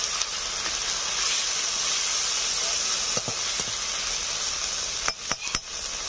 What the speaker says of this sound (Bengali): পেঁয়াজগুলো লালচে হয়ে আসছে, দিয়ে দিচ্ছি আদা রসুন বাটা।